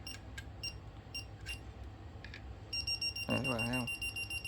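A cheap voltage tester pen touched to a live wire emits a rapid run of high pulsed beeps, fairly faint, beneath a voice that starts midway.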